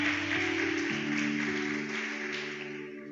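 A church congregation applauds during an evening worship service, a dense, steady wash of clapping heard over sustained keyboard chords that shift partway through.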